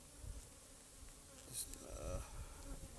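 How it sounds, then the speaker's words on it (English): Honey bees swarm and buzz around an opened hive box in a savanna apiary, a dense steady drone close by with individual bees flying past, while a person speaks faintly underneath. "make every bee in that box angry."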